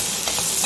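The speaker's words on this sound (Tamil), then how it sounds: "இப்போ நம்ம சமோசாக்குள்ள வைக்க வேண்டிய பூர்ணத்தை வந்து தாளிச்சுக்கலாம்." Samosa filling of onion and masala tempering in a hot pan, a brief bright steady sizzle with no voices.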